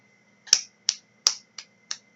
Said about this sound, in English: I just clapped